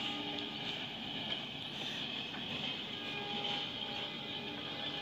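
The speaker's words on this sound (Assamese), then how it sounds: "ট্ৰেইন গৈ আছে" A train rolling past near Kamakhya station in Guwahati, heard from a hilltop as a steady, fairly faint rumble with a constant high hiss, no voices.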